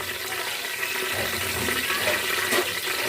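Black peppercorns added to hot oil with curry leaves and green chillies for a tarka dal, giving a steady, dense sizzle and crackle throughout.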